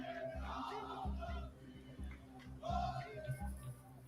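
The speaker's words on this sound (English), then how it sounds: "Maccabi fans were filmed singing racist and anti-Arab songs" Maccabi football supporters chant in unison before a match, a faint, distant crowd rising and falling in steady rhythmic bursts with no clear single voice.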